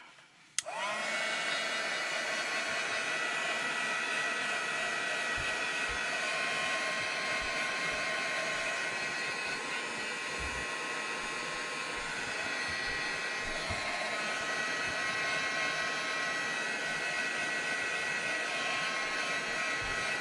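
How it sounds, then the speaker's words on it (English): Heat gun switched on with a brief click, then a steady, loud whooshing blower hiss that holds evenly for about twenty seconds, running alone without talk. "So now I just need my heat gun, which hopefully is plugged in."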